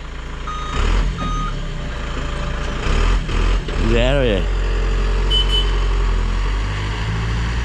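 A truck hauls away an old Ford AU wagon for scrap, its engine rumbling at idle beneath repeated reversing beeps and a brief hiss like an air brake, heard at moderate distance while people talk nearby.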